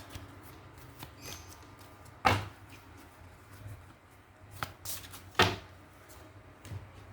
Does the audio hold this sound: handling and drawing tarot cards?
yes